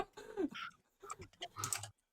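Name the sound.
typing on a computer keyboard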